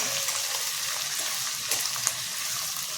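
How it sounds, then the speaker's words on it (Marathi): Finely chopped onion, one large onion, sautéing in a pan over low heat for a leafy vegetable dish, giving a continuous moderate sizzle with faint stirring scrapes, close by and without voices. "आता त्यामध्ये आपण कांदा टाकून घेऊया मी एक मोठ्या आकाराचा कांदा बारीक असा कापून घेतला आहे आणि व्यवस्थित असं परतून घ्यायचं"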